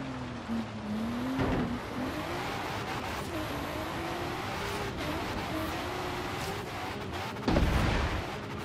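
A Volvo family car on an off-road setup drives across rough terrain in Forza Horizon 3. Its engine hums continuously, with a short crunch early on and a louder burst near the end.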